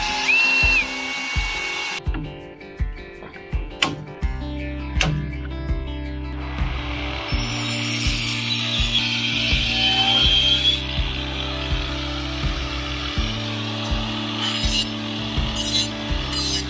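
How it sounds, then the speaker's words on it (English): A power tool whirs in repeated steady bursts while a part is riveted onto a fiberglass black water tank, with sharp clicks and knocks between the runs, close to the microphone. "and just rivet it through."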